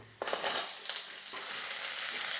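Sliced onion drops into a hot pan and begins frying, giving a sudden burst of crackle that settles into a continuous close sizzle with light stirring scrapes.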